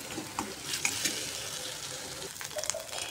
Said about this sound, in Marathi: भुर्जी मी आता बनवत आहे.